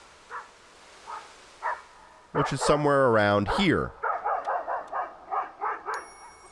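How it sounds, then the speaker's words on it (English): A dog barks aggressively in the Dordogne video game, sharp repeated barks at a moderate distance, first sparse and then in a quick steady run, with a person speaking over part of it. "what we're looking for is the aggressively barking dog"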